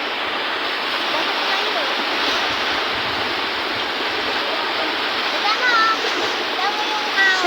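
A flooded river in San Mateo, Rizal rushes past in a loud, unbroken roar of turbulent water, close and steady throughout.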